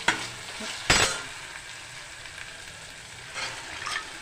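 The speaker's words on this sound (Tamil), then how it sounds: "இப்போ பச்சை பயிறு கொஞ்சம் உப்பு போட்டு ஒரு 2 நிமிஷம் எண்ணெயில் கொஞ்சம் வதக்கிடுங்க" Green gram stir-frying in oil with salt, a steady close sizzle with a sharp burst of stirring near the start and another scrape of the pan toward the end.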